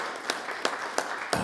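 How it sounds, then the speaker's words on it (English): Sparse clapping in a church during a worship service, a few distinct claps spaced roughly a third of a second apart over quiet room tone, faint and thin rather than a full round of applause. "Let's give her a round of applause."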